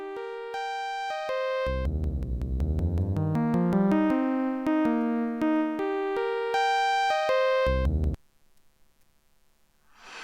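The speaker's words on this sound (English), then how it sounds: "Let's listen to the sequence again and reapply the filter." A synthesizer sequence played through a 6 dB per octave bandpass filter with key follow on the BAZILLE soft synth, a run of distinct stepped notes with bright harmonics and some deep bass tones, ending abruptly into near silence.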